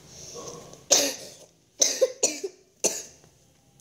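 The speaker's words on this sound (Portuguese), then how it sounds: "Desculpa, gente, atrapalhar o vídeo com essa tosse." Several sharp coughs, close and fairly loud: one at first, then a quick pair, then another, with quiet pauses between.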